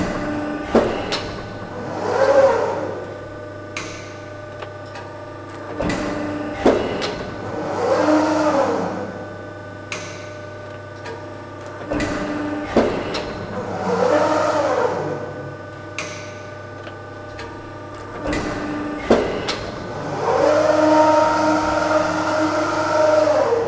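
A Morgan Rushworth guillotine run from a Cybtouch 8 controller cycles via foot pedal: hydraulic whirring swells rise and fall about four times over a constant low hum, punctuated by sharp clunks as each stroke starts and stops.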